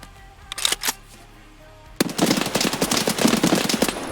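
Gunfire in Escape from Tarkov: a few sharp single shots first, then a rapid sustained burst of automatic fire that is loud and close, with a few quieter clicks before it.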